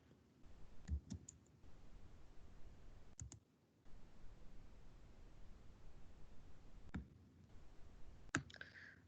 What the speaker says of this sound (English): Typing in the access code